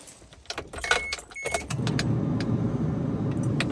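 A diesel camper van in cold weather starts up after keys jangle and clicks sound near the ignition, then settles into a steady low idle.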